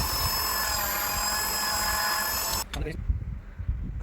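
A power drill bores holes in metal side plates for a shop-made table, its high whining drone running loud and steady before cutting off abruptly, followed by a few knocks and clanks.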